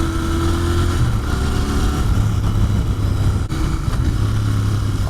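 Royal Enfield Continental GT 650 parallel-twin engine heard steadily from the saddle while riding, a loud continuous mid-pitched drone with shifting revs and wind, no voices.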